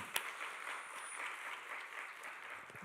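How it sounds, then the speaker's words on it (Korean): Church congregation applauding one another during a Sunday worship service, a steady, moderately distant patter of many hands clapping for a few seconds without speech. "서로가 잘했다고 서로에게 격려의 박수 한번 쳐줄까요?"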